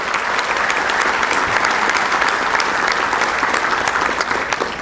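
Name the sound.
applause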